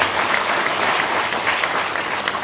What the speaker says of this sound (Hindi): उनका जोरदार तालियों के साथ स्वागत किया गया।